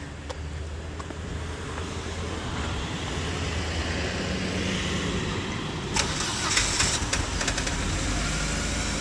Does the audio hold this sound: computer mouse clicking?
no